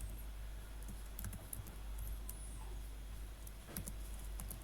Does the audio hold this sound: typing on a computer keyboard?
yes